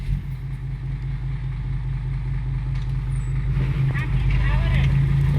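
A truck engine idles with a steady low rumble while the vehicle maneuvers near a waiting excavator. Voices call out over the engine, and the sound swells slightly louder toward the end.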